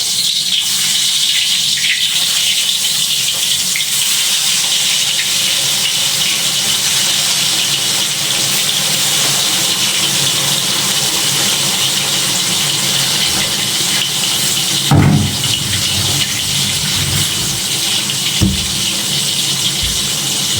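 Chicken pieces fry in hot oil in a home kitchen, a loud, steady, close sizzle that hisses throughout, broken by a couple of brief thumps near the end.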